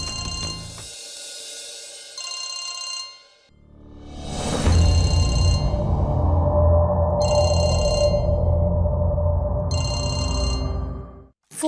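Telephone bell ringing in repeated electronic bursts, loud and close, over a dramatic music bed from a Hindi TV drama scene.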